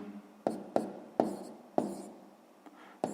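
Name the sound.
writing down a math answer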